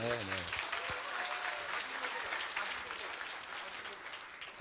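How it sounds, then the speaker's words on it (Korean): Audience applause at a political talk concert with Mayor Lee Jae-myung, steady and dense clapping from a crowd that fills the clip and tapers slightly toward the end, with a voice briefly heard at the start. "박수 한번 주세요."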